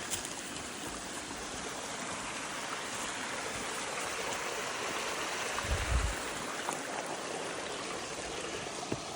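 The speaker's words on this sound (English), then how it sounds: "small creek crossing." A small creek flows steadily beside a trail with a continuous, close babbling rush of water; no voices, just the even trickle throughout.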